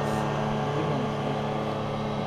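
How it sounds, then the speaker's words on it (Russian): A motorboat engine drones steadily on the Moksha river in Ryazan Oblast, a loud, continuous close hum without pauses. "Да, вообще огонь лодка."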